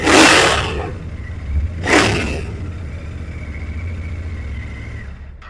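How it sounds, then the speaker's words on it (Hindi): A Royal Enfield Bear 650 motorcycle exhaust blips twice in sharp, loud revs, then settles into a rumbling idle close by. "पहले अब इसका एग्जॉस्ट नोट ही सुन लेते हैं"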